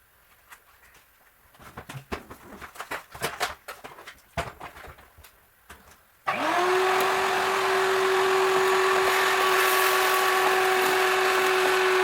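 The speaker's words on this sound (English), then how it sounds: "now what I want to do is vacuum all that crap out of the frame rail" Clattering, knocking and rummaging noises, then a vacuum motor switches on and roars steadily with a high whine until the end, cleaning debris out of a Datsun 280ZX car frame rail.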